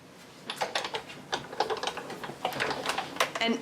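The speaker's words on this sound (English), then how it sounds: "crank that through the Big Shot" Paper and a detailed Santa die with a cutting pad cranked through a Big Shot die-cutting machine, giving a run of close, irregular clicking and ratcheting taps over about three seconds.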